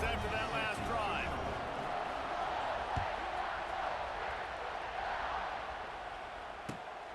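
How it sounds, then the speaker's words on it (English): A stadium crowd in the EA Sports College Football 26 video game makes a broad, steady roar with a couple of faint thumps, while a commentator talks over it. "this crowd is feeling themselves after that last drive"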